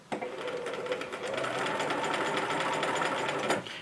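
A sewing machine runs steadily while stitching bias binding onto a small fabric potholder, a continuous close whirring hum that starts abruptly and stops sharply near the end.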